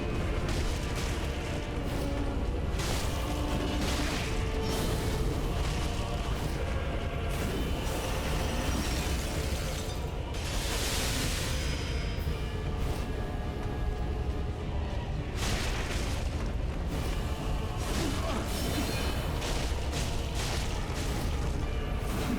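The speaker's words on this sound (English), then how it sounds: "Cool fireworks." Fiery firework-like explosions in the video game Dark Souls 3, a loud, continuous barrage of deep booms and crackling bursts that swell and fade over a steady rumbling roar, with no voices.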